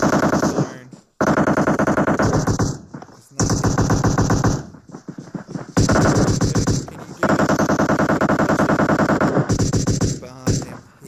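Rapid automatic gunfire from a PUBG Mobile match in spectator mode at a crew challenge final, loud sustained bursts of machine-gun fire with brief gaps between volleys, close and dense.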